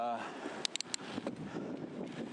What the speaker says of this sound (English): it's real windy up here right now.